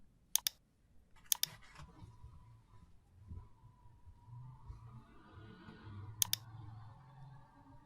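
Sharp mouse clicks from selecting an object in SketchUp come as a triple click, a second triple click a second later, and a final pair near the end, crisp and close over a quiet room hum.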